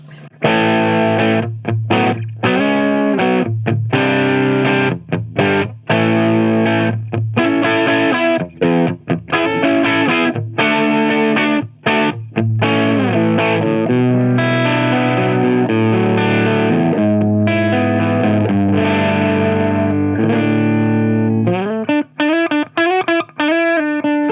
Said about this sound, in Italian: Andiamo ad ascoltare il boost.